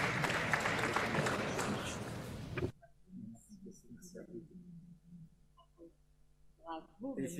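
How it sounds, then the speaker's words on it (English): Applause from the audience at an international conference on LGBTI+ youth rights, dense and loud for the first few seconds, then cutting off abruptly as a voice begins speaking. "il y a aussi des mentions spéciales pour le collectif intersexe et Ankh qu'on peut applaudir aussi."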